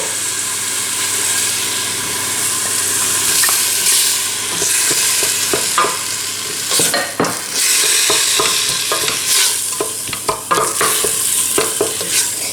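Chopped tomatoes and other ingredients brown in a frying pan with a loud, steady sizzle. Stirring adds scraping and clattering strokes, which grow busier toward the end.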